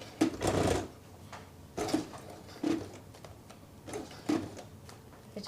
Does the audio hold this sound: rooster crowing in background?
no